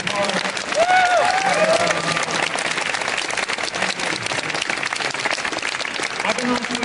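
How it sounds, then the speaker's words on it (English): An audience applauds a guest at a celebrity Q&A panel at FanExpo Vancouver 2014, held at the Vancouver Convention Centre. The clapping is loud, steady and sustained throughout, with voices talking over it. "Let's have a big applause for great art."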